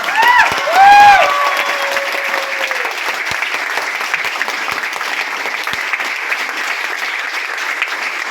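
Audience applause at a Mi Lifestyle Marketing gathering in Kanhangad swells into a dense, steady wash of clapping that continues for several seconds. A brief voice or whistle-like tone rises at the start.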